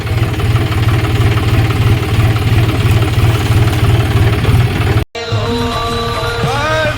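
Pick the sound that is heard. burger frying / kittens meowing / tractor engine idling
tractor engine idling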